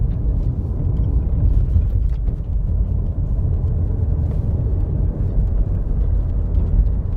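A 2019 Mazda CX-5 engine in regular driving mode accelerates, heard from inside the cabin as a steady, loud low rumble with road noise and no talking.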